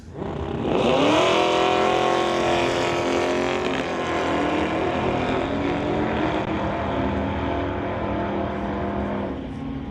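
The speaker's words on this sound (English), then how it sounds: "1991 Chevy running a 502" At a West Coast outlaw street drag race, a 1991 Chevy with a 502 engine and a 2005 Suzuki Hayabusa launch with a loud roar that climbs quickly, then holds as a powerful sustained drone for several seconds.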